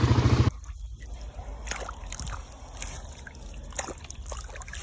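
A broken irrigation sprayer in a field sprays water steadily after a brief loud burst at the start, a continuous hissing spatter with scattered splashes nearby.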